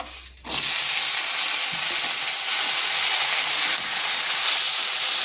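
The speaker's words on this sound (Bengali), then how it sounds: "এরপর দিয়ে দিচ্ছি আলুগুলো" Potato pieces drop into hot oil with dried red chillies, and a loud, steady sizzle bursts up right away and carries on close and unbroken, with no one talking.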